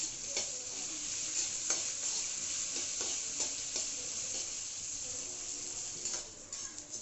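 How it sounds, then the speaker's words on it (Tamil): Crab masala spices and curry leaves dry-roasting in a pan, giving a steady sizzle and dry rustle with repeated scraping strokes of a stirring spoon, close and continuous with no talking. "இப்போ கருவேப்பிலையும் சேர்த்துக்கலாங்க. சேர்த்துட்டு வறுத்துடலாம்."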